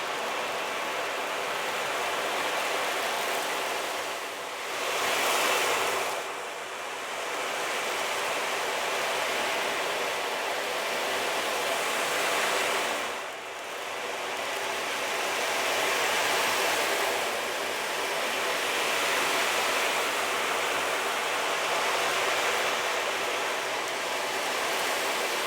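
An ocean drum is tilted slowly so its beads roll across the drumhead, imitating waves on a shore for meditation. A steady, soft hiss swells and recedes in long, gentle surges with no talking.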